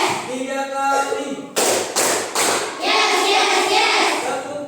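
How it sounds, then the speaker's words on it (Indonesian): Children clap their hands in a classroom, a few sharp separate claps followed by a burst of looser clapping, with young voices heard around them. "Oke, tepuk tangan."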